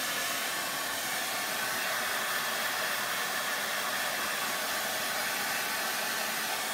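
A heat tool blows hot air onto crackle paint on a wooden tray, a constant loud, hissing whoosh that runs without a break.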